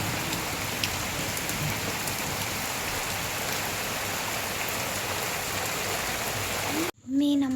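Steady rain patters loudly on a surface for several seconds, then cuts off abruptly as a voice briefly begins at the end.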